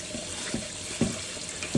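Tap water runs steadily into a sink while sea moss is rinsed under it inside a fine cloth, with soft splashes and surges recurring about every half second as the moss is worked.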